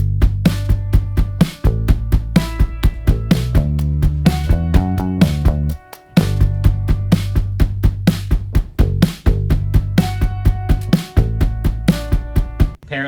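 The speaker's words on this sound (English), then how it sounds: "That was the upright piano that's right here." Upright piano part played with the sustain pedal down, three flammed notes among steady, ringing chords that fill the space loudly and continuously, with no voices.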